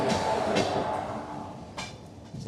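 A train locomotive engine standing at the Aluabari Road Junction station on the Padatik Express route, a low rumbling idle with hissing air bursts and clanking, fairly close, without speech.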